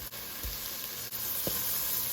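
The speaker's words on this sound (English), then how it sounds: "Now I'm going to add about 2 tablespoons of butter." Two tablespoons of butter melt in a hot pan of vegetables for a vegan pot pie, giving a steady close sizzle with a couple of faint clinks.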